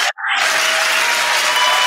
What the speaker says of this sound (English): You gotta love that audience clap